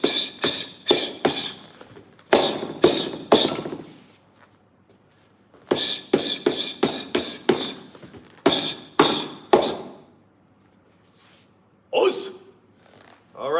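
A makiwara striking post hit in a nine-strike combination, sharp bursts of dull thumping impacts in quick clusters, loud and close, with pauses and breathing between strikes.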